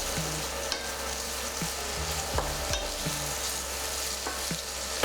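Carrots fry in a pan, and someone stirs them now and then, so the steady sizzle is broken by a few scraping knocks. A louder clatter comes at the very end. No one talks.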